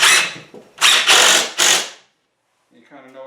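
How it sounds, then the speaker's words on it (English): A power drill drives a screw at an angle into wood on a chicken coop build, with three or four close, loud bursts of whirring, then a short pause and a brief voice. "I'm drilling up at an angle into it"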